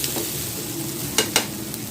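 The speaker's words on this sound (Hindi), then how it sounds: "इसको हम थोड़ा सा सौते कर लेते हैं।" Carrots, capsicum and boiled potatoes sauté in a pan with a steady, close sizzle, broken by a couple of sharp scraping stirs of a spoon.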